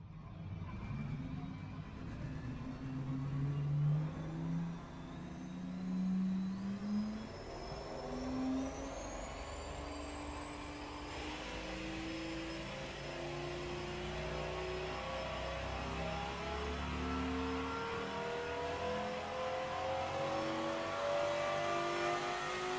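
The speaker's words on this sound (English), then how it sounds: "our 1600 horsepower 10 litre twin turbo V12" Simulated 1600-horsepower 10-litre twin-turbo V12 from the game Automation, a drag car build, revving and climbing through rising pitch sweeps, then holding a sustained high whine for a long stretch without talk.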